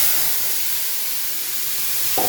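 Food marinated in raw mustard oil goes into a hot wok and sets off a loud, continuous hiss of sizzling and steam that fills the whole moment, with a faint bump at the end.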